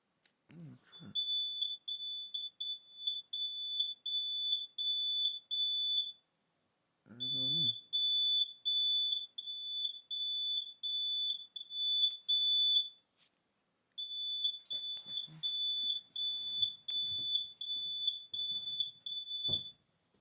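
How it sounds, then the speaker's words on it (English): A smoke detector sounds its piercing high-pitched alarm in rapid repeated beeps, three long bursts separated by short pauses, loud and close, with faint talk in the gaps. "sound like a smoke detector"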